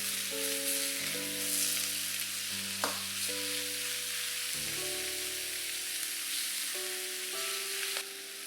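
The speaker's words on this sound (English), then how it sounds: "Let the beef sear till it's brown." Beef searing in one layer in a hot pan for a beef and tomato stir fry, giving a steady close sizzle with soft background music playing throughout.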